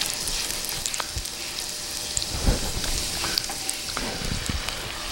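Celery and onions frying in a pan for potato soup, with a steady dense sizzle and crackle like rain, close and continuous, an occasional faint utensil knock and no talk.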